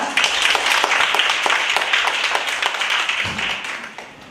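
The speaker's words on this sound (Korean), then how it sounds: "정준석 과장님 박수로 모시도록 하겠습니다" At a civic forum evaluating Korea's basic livelihood security law, an audience applauds to welcome a Ministry of Health and Welfare section chief, a close, sustained burst of clapping that thins slightly toward the end.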